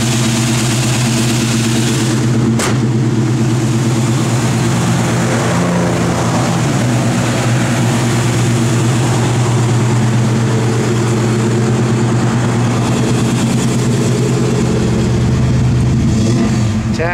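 A 1970 Ford Mustang V8 with a performance cam and Edelbrock aluminum heads idles loud and close, a steady, lumpy rumble with a brief rise in revs partway through and no talk over it.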